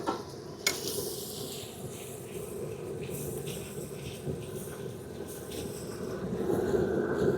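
Liver sizzles and crackles as it fries in butter in a pan, with stirring scrapes and a steady hiss that swells slightly toward the end; no talking.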